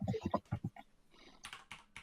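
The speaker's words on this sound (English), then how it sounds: "So much clicking. So much typing." Fast clicking keystrokes on a computer keyboard, a short close burst of typing that follows a moment of talk.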